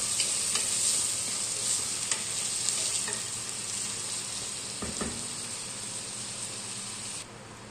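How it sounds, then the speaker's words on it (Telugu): Sliced onions and green chillies sizzling in hot oil in a pan, a steady close hiss with occasional stirring scrapes and clicks, no talking. "అదే నూనెలోనే ముందుగా సన్నగా కట్ చేసి పెట్టుకున్న ఉల్లిపాయ, పచ్చిమిరపకాయ కూడా వేసేసుకుని"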